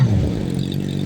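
A 2010 Suzuki GSX-R 600 sportbike engine running close by, a loud low steady rumble with a slight buzzing pulse, brief and alone.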